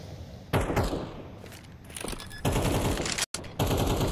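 Bursts of automatic gunfire from a Counter-Strike match on the Vertigo map, with loud rapid volleys separated by brief lulls and a sharp cut near the end.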